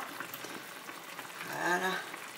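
Meat tajine with potatoes on top simmering in its pot, a steady soft bubbling and sizzling hiss throughout, with a brief voice rising over it near the end.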